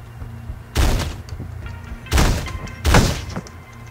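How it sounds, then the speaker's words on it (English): A shotgun fires in the top-down shooter Teleglitch, three heavy, punchy blasts about a second apart, each with a brief rumbling tail over a low background hum. "Let me get out the shotgun here."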